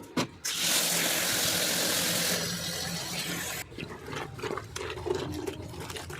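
Water gushing from a tap into a tub to soak clothes for washing, a loud steady pour for a few seconds that then stops, followed by splashing and handling of wet fabric nearby.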